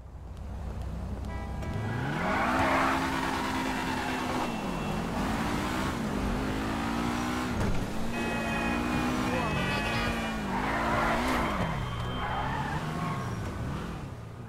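A Dewbauchee Rapid GT Classic sports car in GTA revs and shifts through gears, rising and falling in pitch with tire squeal, continuous and loud throughout.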